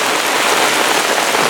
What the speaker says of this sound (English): We're getting rain and we're getting wind.